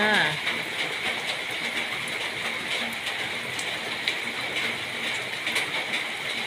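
Steady rain falls with a continuous hissing patter and scattered louder drops throughout, fairly close and even in volume.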